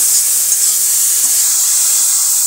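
Ridge gourd dropped into oil already frying chopped onion, green chili and salt, giving a loud, continuous hissing sizzle up close with no voices over it.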